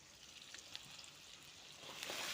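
Fish and water hyacinth frying in a pan, a faint, steady crackling sizzle with scattered pops that swells slightly toward the end; no talking.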